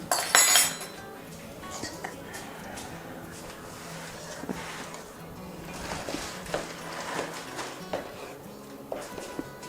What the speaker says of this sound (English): Daniel, you want to do some stirring?